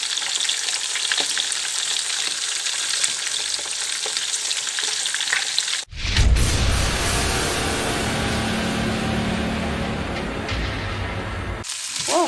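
Sea bream fry in hot oil with a loud, steady crackling sizzle. The food is stirred or turned partway through, which sets off a fresh burst of spattering that carries on to the end.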